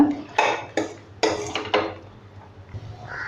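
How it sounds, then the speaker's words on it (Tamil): Mutton bones being stirred into masala in a cooking pot: several close, sharp clattering scrapes and knocks in quick bursts, then a quieter pause, with no talking. "சேர்த்துட்டு நல்லா மிக்ஸ் பண்ணிக்கோங்க."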